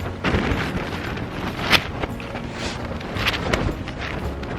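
Steady wind buffets the microphone outside a tent while camping, in broadband rushes, with a few louder gusts rising briefly above the constant blustery noise; no voices.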